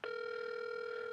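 A telephone ringing tone on a call to a radio show guest, a steady electronic tone held at even level and heard alone with no voices.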